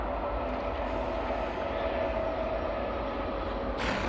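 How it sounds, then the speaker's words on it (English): A train rolls past a Texas ranch pasture, a steady, loud, close rumble of railcars with a faint high squeal running through it and no breaks. "Let this train go by."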